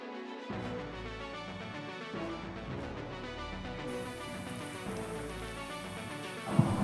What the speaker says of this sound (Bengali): তেল গরম হয়ে গেছে, এবার পেঁয়াজগুলো লাল লাল করে ভেজে নেব।